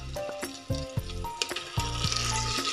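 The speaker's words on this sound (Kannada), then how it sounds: "ಹಾಗಾಗಿ ತುಪ್ಪದಲ್ಲಿ ಸ್ವಲ್ಪ ಹುರ್ಕೊಳ್ಳೋಣ" Cloves, bay leaf and curry leaves sizzle and fry in ghee for jeera rice, a close, steady crackle broken by repeated stirring clatters against the pan, with no talking.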